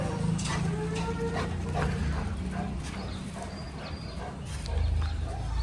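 Dogs at a hostel holding a last batch of two Golden Retrievers and two Labradors bark and yip in scattered bursts, with some whimpering and background noise.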